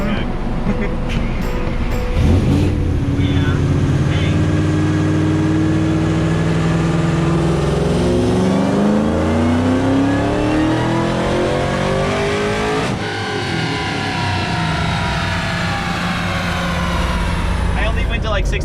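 A stock 5.4 L Ford Mustang GT500 with a VMP Gen3R supercharger revs on a dyno, its engine climbing loudly in pitch through several pulls with supercharger whine, while people talk over it nearby.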